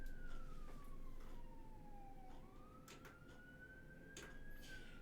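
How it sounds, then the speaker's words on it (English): Police siren wailing in Los Angeles, a distant wavering tone sliding down then back up over steady city traffic rumble, with a few faint clacks along the way. "You know, I can't remember not hearing police sirens."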